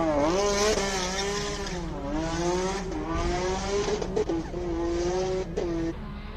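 A race car engine roars loudly at close range during the Simola Hillclimb 2025 finals, its pitch rising and falling through gear changes and throttle lifts, with no voices.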